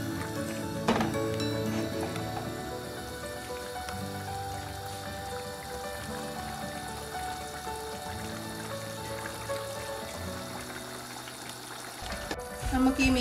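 Kottayam-style fish curry bubbling in a pot, a steady close simmering hiss with soft popping bubbles and a brief louder burst at the end.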